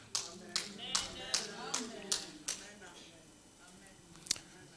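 A church congregation claps in a slow, even rhythm, about seven sharp claps spaced evenly, then trails off into quiet room tone with one last stray clap; fairly faint and close.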